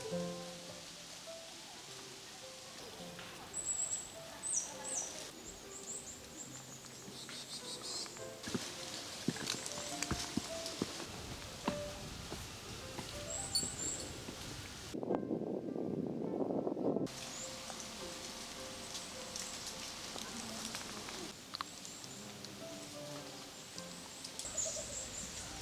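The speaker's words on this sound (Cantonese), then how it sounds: "好多時候呢度都係靜到只係聽到雀仔嘅叫聲" Birds call sparsely beside a quiet lake at Juniko, Aomori, in autumn, their faint high chirps drifting over a soft, steady bed of wind and rustling leaves, with one brief louder gust midway.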